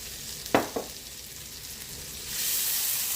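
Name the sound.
butter and oil sizzling in a frying pan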